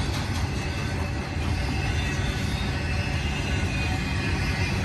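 A Union Pacific freight train with big power accelerates uphill, a loud continuous rumble of engines and rolling wagons running steadily throughout with no talk.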